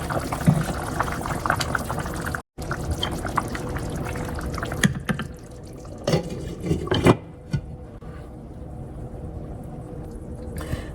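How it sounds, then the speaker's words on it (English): Homemade chunky chicken chili simmering in a pot on an electric stove, giving a steady close bubbling and sizzling texture with a few louder pops and stirs, fading quieter toward the end; no one talks. "Okay, we are simmering pretty good."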